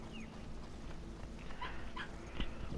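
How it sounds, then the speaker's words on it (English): A dog plays with a squeaker toy indoors, drawing short, high squeaks in an irregular run over a low, steady background hum, moderately faint and without talk. "My dog is playing with this squeaker again."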